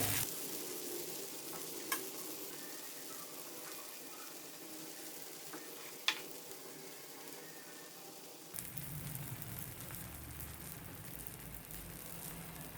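Rava uttapam batter spread on a pan sizzles steadily in a little oil over medium flame, with a couple of faint clicks of utensils, then a shift to a softer, lower frying hiss near the end.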